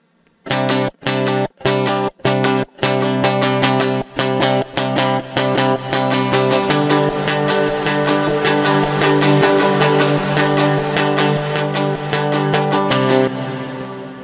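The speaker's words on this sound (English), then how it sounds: "You're going to start listening to that reverb happening." Electric guitar track with heavy reverb applied in a Pro Tools mix: loud distorted chords, first as choppy stabs with gaps, then sustained and ringing with a wash of echo, heard alone.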